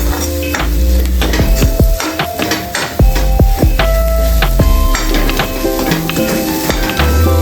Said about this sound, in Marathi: फुटेपर्यंत आपण हे मसाला भाजून घेणार आहोत